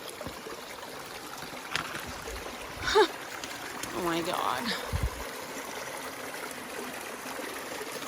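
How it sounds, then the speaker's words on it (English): Mountain stream flowing straight over a wet, rocky hiking trail on Wolf Mountain, a constant nearby rushing trickle with a few brief splashes, and a person speaking briefly over it. "It's a river or a stream or whatever you want to call it."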